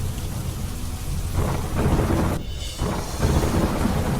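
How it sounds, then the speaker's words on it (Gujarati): Heavy monsoon downpour over Vadodara city, a steady dense roar of rain on surfaces with deep rumbling thunder rolling through, loud and continuous with no voices. "વડોદરા શહેરમાં ધોધમાર વરસાદ"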